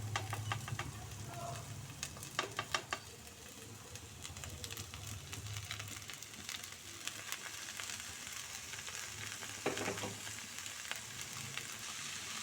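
Tempering with asafoetida frying in a pan for cucumber poha, a steady crackling sizzle with scattered sharp pops, moderately quiet and continuous for several seconds.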